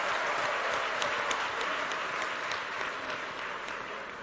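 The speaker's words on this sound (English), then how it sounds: "Let's give a round of applause to your parents and your guardians." A large crowd claps at a university graduation convocation on a permanent campus, sustained dense applause with sharp individual claps standing out, fading slightly toward the end.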